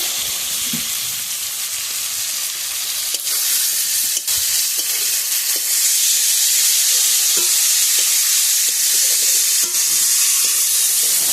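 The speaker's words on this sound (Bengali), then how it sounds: "এবার এর মধ্যে আলু দিয়ে দেবো" Potatoes sizzle steadily in a hot pan, a loud continuous frying hiss with occasional scraping stirs and clinks, close up and with no talking.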